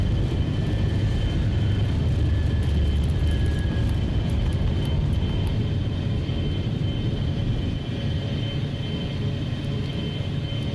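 A Gulfstream 550 business jet climbing out after takeoff in the X-Plane simulator, its engines a steady, loud, broadband roar and low rumble that holds unbroken throughout, with no talk over it.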